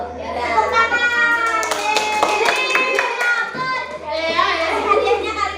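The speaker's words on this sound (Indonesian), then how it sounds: "Tepuk tangan." Elementary schoolchildren in a classroom clap their hands together in sharp, rhythmic bursts, mixed with lively children's voices and chatter throughout.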